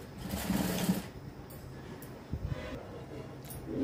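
A sewing machine stitching a straight seam on a frock, a close, steady mechanical whirring chatter that is loudest at first, then continues more softly with a few small knocks.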